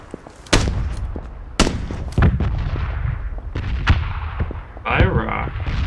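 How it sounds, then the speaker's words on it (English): Gunfire in the PUBG battle royale game: several loud, sharp shots ring out at irregular intervals over a steady background of in-game ambience. "I'm gonna shoot at him."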